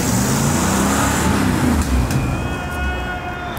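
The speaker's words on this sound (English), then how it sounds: "This car is slowing down and shit." A car slows on a road nearby, its engine and tire noise loud and steady before gradually easing off, with general traffic sound around it.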